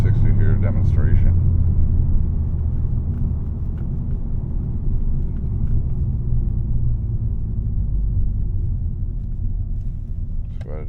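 Cabin rumble from a VW Mk6 Golf GTI with DSG gearbox under acceleration, a loud, steady low engine drone heard from inside the car, with brief speech at the start.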